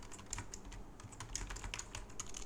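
Someone types on a computer keyboard, the keys clicking quickly and unevenly at a soft, close level with nothing else heard.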